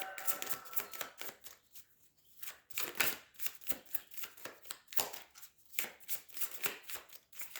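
Cards being shuffled and drawn, a dense run of quick riffling flutters and soft slaps with brief pauses, close and without talk.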